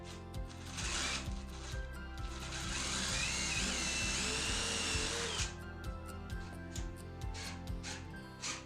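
A power drill whines up and bores into a wall while hanging wallpaper, for a couple of seconds, with short bursts of the motor before and after, nearby and moderately loud.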